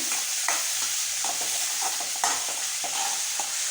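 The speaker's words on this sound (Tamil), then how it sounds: "இது கொஞ்சம் நல்லா வந்து தக்காளி வதங்கி வரட்டும்" Chopped tomatoes sautéing in a pan for brinjal rice, a constant bright sizzle broken by repeated stirring clicks and scrapes of a spoon, close and fairly loud, with no talking.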